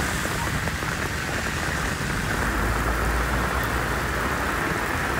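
Heavy rain pouring down in a prolonged downpour, a dense steady hiss and patter with low rumbling undertone, loud and continuous, no voices.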